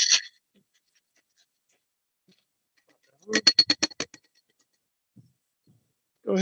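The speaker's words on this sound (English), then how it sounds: "Give it a nice mix once again." Vodka blackberry cocktail rattling in a shaker: a quick burst of about six sharp, evenly spaced shakes, close and fairly loud, framed by brief snatches of voice before and after with near-silence between.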